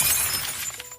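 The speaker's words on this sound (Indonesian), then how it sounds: "Seekor kucing belang telah memecahkan gelas cucian di dapur." Glass shatters in a kitchen, knocked over by a tabby cat, a sharp bright crash followed by a brief scatter of tinkling shards fading out.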